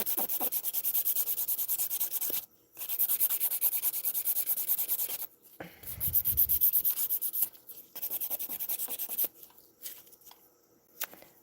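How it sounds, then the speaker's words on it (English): An electric nail drill files down an acrylic nail set in repeated bursts of high, gritty sanding that stop and restart several times, close and fairly loud. "we'll just have to use the drill."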